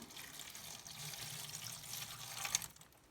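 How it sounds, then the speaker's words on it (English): Water poured into the bottom of a seed tray for basil seeds in a kitchen makes a soft, steady trickle and splash for a few seconds, faint and alone, with a slightly brighter splash near the end. "little bit of water in the bottom."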